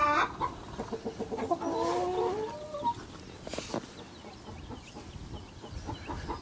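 Chickens cluck and squawk nearby in bursts, with one drawn-out call partway through, then quieter scattered clucking against an outdoor background.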